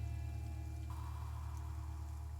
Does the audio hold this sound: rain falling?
yes